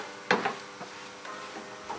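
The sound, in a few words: stirring samosa potato filling mixture in a pan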